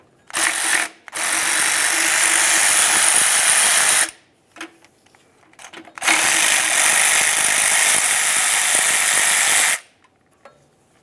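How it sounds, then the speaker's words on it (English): A power tool whirs loudly in two long bursts, driving a 13mm socket to remove oil pan mounting nuts on a 2005-2010 Dodge Dakota 4.7L V8, with short spurts and clicks between them and a faint ratcheting as the runs stop. "we'll use a 13mm socket to remove each of the mounting nuts along the back side"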